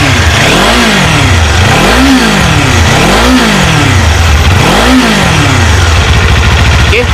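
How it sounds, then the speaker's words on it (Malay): A Kawasaki Modenas Ninja 500 sportbike engine revved repeatedly from idle, four rising-and-falling throttle blips in a steady rhythm before settling back to a loud, close idle. "Jom kita rem sikit bunyi dia."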